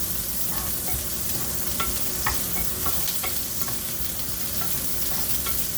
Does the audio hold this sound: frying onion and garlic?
yes